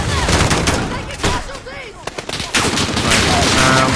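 Rapid bursts of automatic gunfire and explosions in the Call of Duty Modern Warfare video game, loud and dense, with a voice speaking briefly over the shooting.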